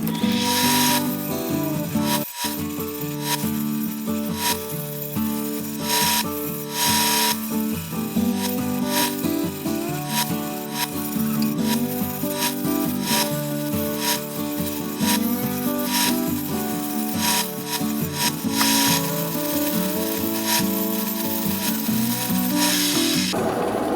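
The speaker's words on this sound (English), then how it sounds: "now I'll start to smooth that bevel out over the top of the tire" Black banded agate cabochon being ground and smoothed on a wheel, a steady continuous rasping whir with shifting tonal hums, loud and close with no talking.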